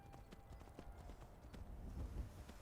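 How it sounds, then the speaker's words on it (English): Horse hooves clip-clop in a steady trotting rhythm while riding through Skyrim, the video game, a quick even patter of soft thuds heard alone at moderate loudness. "Just don't feel right without hearing the clip-clop of Disridan's hooves."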